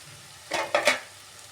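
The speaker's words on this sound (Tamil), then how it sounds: "எந்த அளவுக்கு மசாலா ரெடி ஆகிடுச்சுன்னு இப்போ இதில் நம்ம பாவக்காய் ஆட் பண்ணுறோம்." Bitter gourd pieces stir-fried in masala for poriyal, with a couple of short, close bursts of sizzling and scraping stirring against a quiet background.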